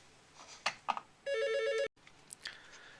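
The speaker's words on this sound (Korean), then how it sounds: "전화가 왔습니다." A telephone rings once with a bright electronic tone burst lasting just over half a second, with a few clicks and small handling sounds before and after it.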